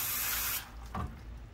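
Close, loud hiss of AMSOIL parts cleaner being sprayed onto the rear brake caliper of a Mercedes SL550 R231, one sustained burst that cuts off, followed by a faint rattle of handling.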